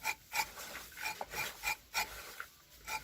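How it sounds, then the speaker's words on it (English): Whole nutmeg grated for homemade chocolate, a rhythmic series of short raspy strokes about every half second, close but fairly quiet, with no talk. "grate the nutmeg, make the chocolate tasty"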